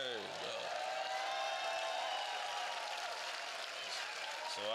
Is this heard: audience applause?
yes